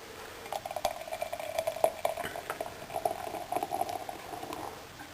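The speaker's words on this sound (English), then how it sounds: "So we're going to go ahead right now and pour it." Bohemian style pilsener beer is poured into a glass, giving a faint, fizzy gurgle that runs for several seconds and then fades; no one speaks.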